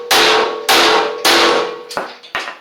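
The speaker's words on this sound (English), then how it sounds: "So basically, I'm just going to take a sledgehammer here." A sledgehammer strikes a brand-new Toro zero-turn mower deck five times: three loud, evenly spaced metallic bangs followed by two quicker, lighter hits, each ringing briefly.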